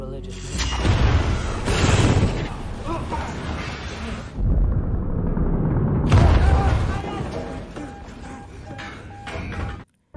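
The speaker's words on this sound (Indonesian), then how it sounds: "tiba-tiba torpedo itu pun meledak" A torpedo detonates aboard a Russian nuclear submarine: a loud, sustained booming roar with rumbling low end, a brief lull, then a second heavy surge of blast noise before cutting off abruptly.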